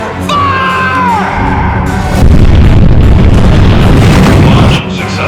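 Missile launch in an action film about a giant shark: a tone sweeps down, then a loud, roaring blast and rumble sustains for several seconds, with voices mixed into the opening.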